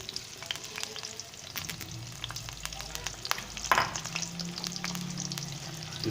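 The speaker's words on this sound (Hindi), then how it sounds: "प्याज इसमें मैं शामिल कर लेता हूँ।" Onions hit hot cooking oil for a zucchini sabzi, sputtering and crackling with scattered pops, a spatula scrape partway through, then settling into a steadier sizzle.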